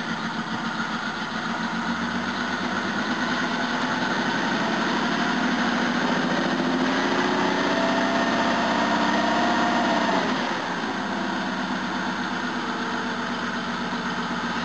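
Jaguar XJ12 V12 engine idling rough and uneven while cold, misfiring on some cylinders; a steady, loud, close running note with wavering pitch throughout, no voices.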